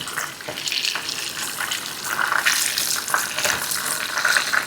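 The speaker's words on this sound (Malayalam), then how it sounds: "ഒന്ന് ഷാലോ ഫ്രൈ ചെയ്ത് ചെറുതായിട്ടൊന്ന് വറുത്തെടുത്താൽ മതി" Karimeen (pearl spot fish) shallow-frying in a pan, a steady bright sizzle and crackle of hot oil running throughout, fairly close and even, with occasional louder spits and no talk.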